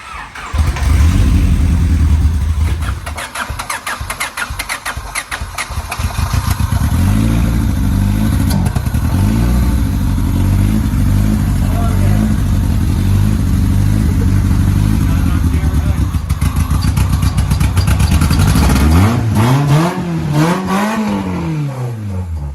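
A junkyard Honda Civic limo with newly replaced fuel injectors cranks, catches and runs, its engine idling loudly and close before rising and falling through several revs near the end.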